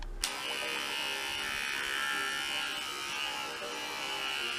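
An electric dog grooming trimmer buzzes steadily and close, switching on sharply and holding one even hum for several seconds with no talk over it.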